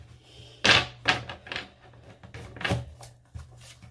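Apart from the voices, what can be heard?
shuffling tarot cards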